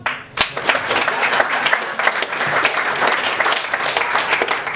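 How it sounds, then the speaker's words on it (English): Continuous audience clapping fills a comedy roast show, a dense, even wash of many hands that carries on throughout without a break. "You will continue to clap."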